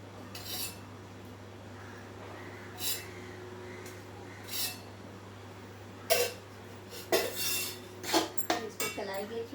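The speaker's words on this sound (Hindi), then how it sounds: "इसको चलाएंगे अच्छी तरह से।" Spoon stirring a gond laddu mixture with ghee in a pan, giving intermittent scrapes and metallic clinks that grow busier toward the end, over a steady low background hum.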